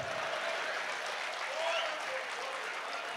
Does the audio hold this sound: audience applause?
yes